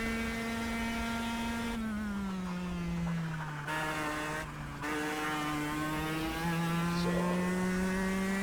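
A kart engine at full throttle in the KartKraft racing video game: a sustained buzzing engine tone with pitch dipping and recovering through gear and throttle changes, briefly cutting out twice, with a single spoken word over it.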